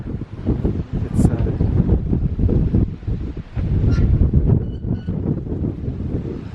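Strong wind buffets the microphone outdoors in coastal Skagen, Denmark, a loud continuous rough rumble that rises and falls in gusts throughout.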